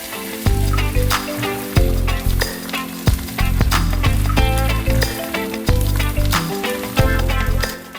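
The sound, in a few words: egg frying in butter for bread omelette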